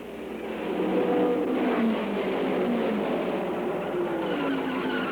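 Rear-engine race cars at the 1964 Indianapolis 500, engines droning past in a steady roar that rises after the first second, with faint shifting pitch sweeps as cars pass at a distance.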